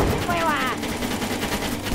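Gunfire in the Brick Rigs video game, a dense burst of shots over busy game noise and background voices across the whole two seconds.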